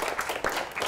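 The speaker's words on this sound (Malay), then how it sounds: "Okey, tepuk tangan." A classroom of secondary school students claps in a short burst of applause, many hands overlapping at moderate loudness for under a second.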